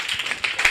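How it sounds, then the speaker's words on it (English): Clapping from a standing congregation at an Igbo summer camp gathering, a brief burst of several hands striking together in an uneven patter, close and fairly loud. "Let us stand up and clap for God."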